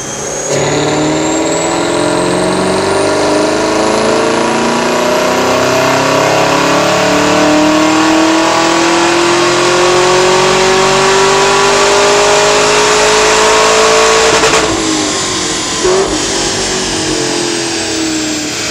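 A Chevrolet Camaro ZL1 with a ported supercharger revs hard on a chassis dyno, one long continuous pull rising steadily in pitch for about fifteen seconds before the throttle lifts and the engine settles back to a loud idle.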